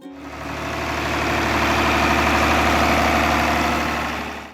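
A John Deere 4010 tractor engine runs with a steady, even hum, a continuous low drone that holds constant from start to finish with no voices.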